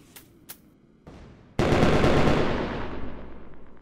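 Fireworks launched with harpoons in the Roblox game Build a Boat: a couple of sharp pops, then a sudden loud, dense burst of crackling blasts that rolls on and slowly thins out.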